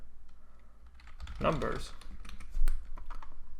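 Typing on a computer keyboard produces irregular key clicks close by, with someone talking over them.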